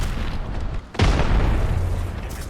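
An arc star grenade detonates in Apex Legends, a sudden heavy electric boom after a brief lull, with a rumbling tail under ongoing game noise.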